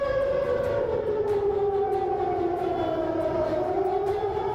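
A river flood warning siren along the Kali Bekasi wails continuously at a steady volume, its long tone slowly sweeping down in pitch, with no voices heard.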